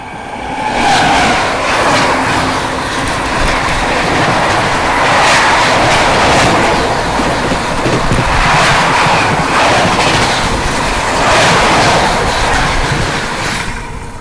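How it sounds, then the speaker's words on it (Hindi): The Sealdah Ajmer Express thunders past on the adjacent track, a loud, sustained roar of wheels and wagons with rhythmic clatter that swells and holds for the whole span. "अब बारी है सियालदह अजमेर एक्सप्रेस की, तो ये क्रॉस हो रही है"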